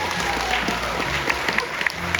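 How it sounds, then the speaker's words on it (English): A crowd at a liquid nitrogen science demonstration applauds Colette, a short burst of steady clapping with scattered louder claps, fairly close and moderately loud. "Let's give Colette a big round of applause,"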